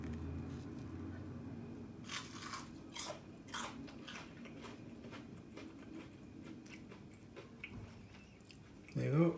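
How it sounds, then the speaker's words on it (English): Crunchy chicken pakora with crispy batter is bitten and chewed up close, a series of sharp crunches in the first half fading to softer chewing, with no talking until a brief sound at the end. "Now, as you can hear, it's quite crunchy"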